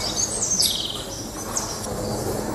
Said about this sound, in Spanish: Los pájaros que pululan por el jardín nunca se van muy lejos.